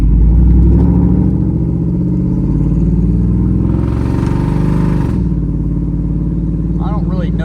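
A car engine revs on a drive after an intake modification, with a loud, steady mid-pitched growl that rises and holds, while someone talks over it.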